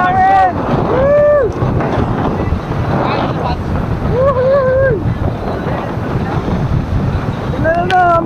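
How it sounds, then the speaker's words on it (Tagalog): Strong wind roars and buffets the microphone on a beach in Legazpi City, Albay, Philippines, during a sailing regatta, a steady rushing noise throughout with people shouting and cheering over it. "Grabe, lakas ng hangin dito!"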